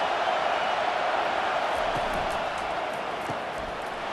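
Broad, steady crowd roar from a simulated college football stadium in NCAA 25, Colorado State against Texas, swelling ahead of a third down, loud and continuous throughout without distinct claps or calls.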